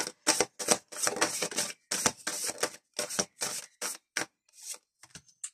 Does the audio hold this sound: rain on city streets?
no